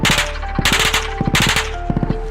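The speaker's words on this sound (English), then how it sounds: "I would love the honors of you shooting at me with the PKM." PKM machine gun fired outdoors toward the recording position, heard as short loud bursts of sharp cracks with metallic clangs and ringing between them, no talking.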